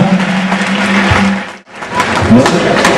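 Audience applauds at a speedway team rider presentation in a shopping gallery, a dense, steady wash of clapping that briefly drops out mid-clip before resuming, with a host's voice speaking over it.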